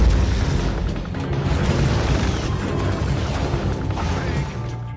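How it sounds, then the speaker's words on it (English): An ion cannon strike from the Command & Conquer: Tiberium Wars strategy game: a loud, sustained rumbling blast that roars continuously with crackling bursts and booming impacts throughout. "The ion cannon's been engaged"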